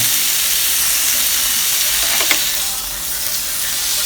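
Steak sizzling on a grill pan, a steady loud hiss and crackle of frying meat that continues evenly throughout, close up with no talking.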